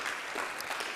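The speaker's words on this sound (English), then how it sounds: "Round of applause." Brief burst of audience clapping after a speaker at a nomad community event, moderately faint and steady for about a second with no talk over it.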